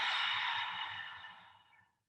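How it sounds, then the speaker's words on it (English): A single slow open-mouth exhale during a guided breathing exercise, soft and airy, close to the microphone, fading gradually to silence over about two seconds. "Open mouth, exhale."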